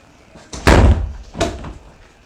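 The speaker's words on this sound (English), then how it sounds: "Let me shut this damn door, man." A door shut at close range, a loud thud followed by a second softer knock as it settles into the frame, with no talking.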